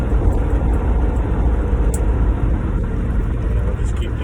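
A semi truck's engine rumbles loud and close from inside the cab as the driver downshifts, a steady deep drone with the revs rising slightly, while he talks over it.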